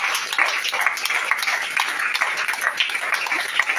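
A church congregation at an evening deliverance service applauding, a continuous crisp patter of many hands clapping with scattered cheers, steady and close throughout.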